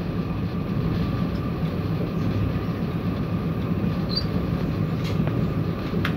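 A DR3000 diesel multiple unit train running toward Kanding station, heard from inside as a loud, steady rumble of engine and wheels with faint squeals and rattles.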